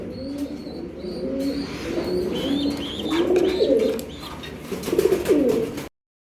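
Racing pigeons on a rooftop loft coo steadily and close by, with overlapping throaty calls that rise toward the end before cutting off abruptly.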